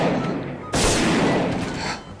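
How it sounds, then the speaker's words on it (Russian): A sudden heavy shotgun blast in Garry's Mod cuts in sharply, followed by a lingering roar and rumble, with faint voices and game noise before it. "ты в лицо выстрелил с дробовика"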